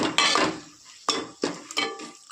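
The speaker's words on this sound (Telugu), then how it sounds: "ఇప్పుడు కలుపుకోవాలి బాగా." A spoon scrapes and knocks against a pot while stirring egg pulusu curry, four distinct close clinking strokes with short pauses between them.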